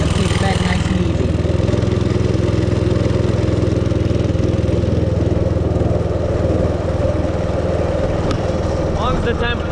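Go kart engine idling, a loud, steady, close mid-pitched drone running throughout without a break, with someone speaking briefly over it.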